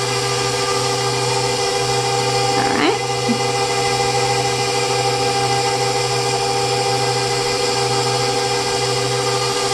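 A motorized pasta roller attachment hums steadily as homemade pasta dough is fed through for another thinning pass, a constant mechanical drone with a brief scraping rustle partway through.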